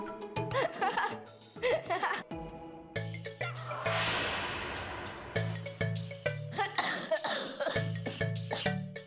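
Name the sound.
person coughing after eating chili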